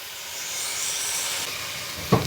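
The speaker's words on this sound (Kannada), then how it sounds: "ಇದಕ್ಕೊಂಚೂರು ಉಪ್ಪು ಹಾಕಿ ಬೇಯಕ್ಕೆ ಬಿಡ್ತೀನಿ ನಾನು" Amaranth leaves cook with salt in a pan, giving a steady, soft steamy hiss close by. A sharp clink sounds near the end.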